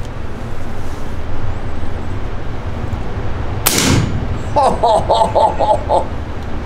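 A rifle fitted with a Barron suppressor fires a single muffled shot, a sharp close crack that fades quickly into outdoor background noise while a faint voice is heard.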